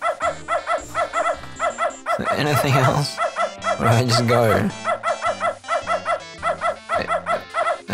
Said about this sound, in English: that dog's gonna keep barking.